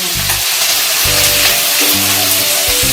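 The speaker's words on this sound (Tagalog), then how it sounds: "palabasin ng mantika ng taba ng karne" Pork fat renders in a hot pan with a loud, continuous sizzle and spatter, close up, with low periodic thumps as the pan is worked.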